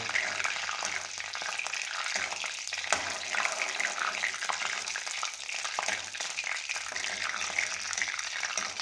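Fenugreek seeds roast in a hot pan for a Punjabi tamarind mahni, giving a steady, close hiss of sizzling crackle across the whole stretch, with faint stirring and no talk.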